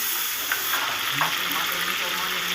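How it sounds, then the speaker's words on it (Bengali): Fish oil fries in a pan with panch phoron, a soft, steady sizzle with occasional crackles and light stirring scrapes, fairly quiet and without voices. "মাছের তেলটাকে ভালো করে একটু ভেজে নিতে হবে"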